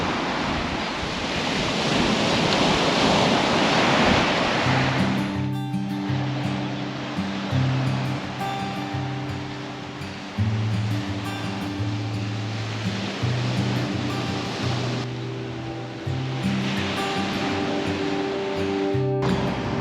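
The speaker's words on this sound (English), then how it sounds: "This is high tide in Karumba." High-tide ocean waves at Karumba in far north Queensland wash loudly for a few seconds, then continue more softly beneath tonal background sounds.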